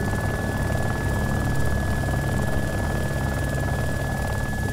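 Helicopter engine in the DayZ video game running steadily with a dense, continuous rotor drone and a high whine, loud and unbroken with no talk.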